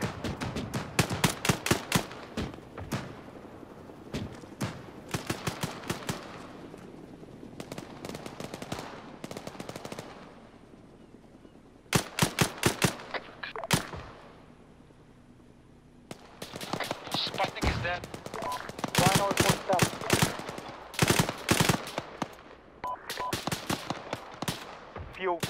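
Gunfire in an Arma 3 night battle at a bridge: repeated bursts of automatic fire and single sharp shots, some loud and close, some more distant, separated by lulls, with faint radio-style talk at times.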